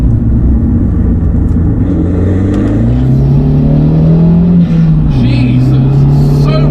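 An Abarth hatchback with a Stage 2 tune revving and accelerating hard in second gear, a loud aggressive engine note climbing steadily in pitch, close and continuous over road rumble.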